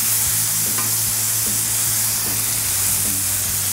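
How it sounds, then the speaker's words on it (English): Smash burgers with a green chili cheese skirt on a Blackstone griddle, giving off a loud, continuous sizzle and hiss close up, with a few faint scraping taps from a spatula during the flip. "these burgers look like they're ready for a flip"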